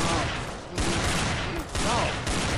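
Rapid revolver gunfire in Garry's Mod, dense overlapping shots in three loud bursts separated by brief gaps, with voices partly mixed in.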